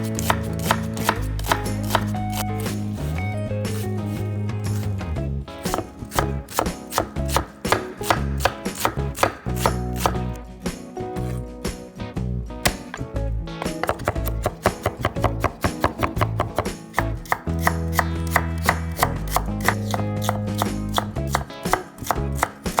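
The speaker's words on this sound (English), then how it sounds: "All my vegetables have been minced and placed in this bowl" A knife mincing vegetables such as scallions on a cutting board for cucumber kimchi, rapid steady chopping taps in long continuous runs with brief pauses, close and loud, no talking.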